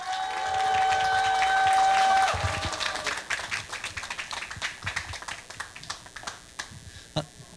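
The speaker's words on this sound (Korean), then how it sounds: "큰 박수 부탁드립니다" An audience at a labor union rally applauds, loud at first, then the clapping thins out into scattered claps.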